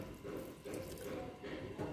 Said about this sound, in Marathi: असं वाफेवरतीच थोडंसं पाणी आत पण घालते.